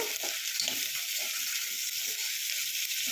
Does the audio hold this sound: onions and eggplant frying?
yes